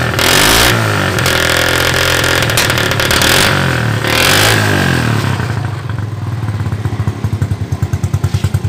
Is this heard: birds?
no